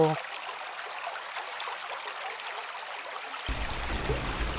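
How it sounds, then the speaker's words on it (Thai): A broad, steady rush of falling water from a wide waterfall in Kanchanaburi, Thailand, constant hissing spray with a deeper roar swelling in toward the end. "เป็นน้ำตกที่กว้างไกลจริงๆ"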